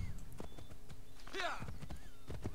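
Horse hooves clip-clop in Assassin's Creed 3, an even trotting rhythm with a brief whinny partway through and faint game ambience.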